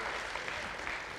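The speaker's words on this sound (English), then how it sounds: "That's applause, please. Applause for you," Brief, steady applause from an audience at a legal-innovation conference, a continuous moderate patter of hands with no voices.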